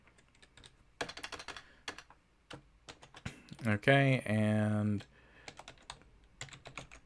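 Rapid keystrokes clatter on a computer keyboard during coding, arriving in quick bursts and scattered taps, with a short spoken phrase breaking in midway.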